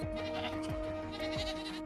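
A goat bleats twice in quick succession, with wavering cries heard at moderate distance over a steady background hum and no talking.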